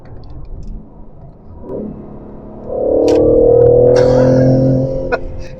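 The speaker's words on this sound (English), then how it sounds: "Dropping down the gears" A 2021 BMW M3 Competition drops down through the gears, its engine note swelling into a louder, rising blip-laden roar midway before easing off, heard from close without any talking.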